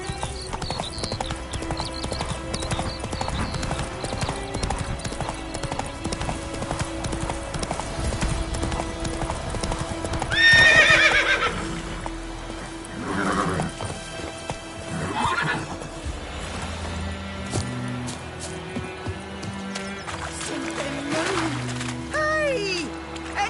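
Horse hooves clip-clop steadily while the horse whinnies in The Witcher 3 video game, with other game sounds layered in. A sharp, loud neigh comes near the middle, over a constant background bed of game ambience.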